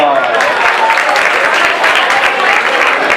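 Dense, steady applause from an audience at a talk about life on other planets, continuous and loud for the whole stretch with no clear voices above it.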